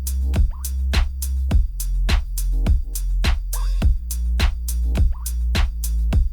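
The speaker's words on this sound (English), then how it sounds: "So Logic Pro is a trap bass preset that I put some saturation on and sidechained it to the kick, so it sounds like this." A Logic Pro trap bass preset with saturation, sidechained to a kick, plays as a low, gritty sustained bass that pumps under a steady, loud kick pattern, with punchy hits repeating evenly throughout and no talking.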